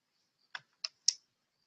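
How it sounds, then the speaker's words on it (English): A loud computer keyboard gives three sharp, separate keystrokes spaced about a quarter second apart, close and clear against otherwise silent air. "I've got a really loud keyboard."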